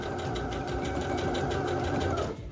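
A sewing machine stitches fabric strips for a carnival money belt, running in a steady continuous whir close up that stops abruptly near the end.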